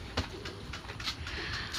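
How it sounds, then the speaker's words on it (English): A pigeon-like bird coos outdoors while family members feed animals, soft repeated calls at an even rhythm over steady background noise, heard alone without talking. "Whoa! Bird!"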